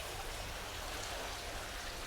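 Water cascades down a waterfall display inside an aquatics shop with a steady, broad rushing hiss that holds an even level throughout, close and continuous with no talking.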